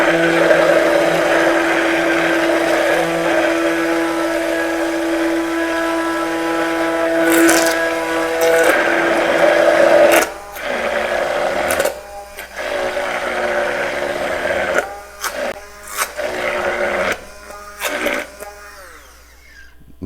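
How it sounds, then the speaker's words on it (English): An immersion blender whirs steadily while emulsifying homemade basil mayonnaise, a loud sustained motor hum that later breaks into short bursts and pauses as the blender is moved around. "you could start moving your immersion blender around."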